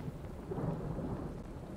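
Thunder and rain from the Wrathful Rain ability in the Othercide video game: a dense, steady low rumble with a continuous wash of rain, loud and sustained throughout with no voices.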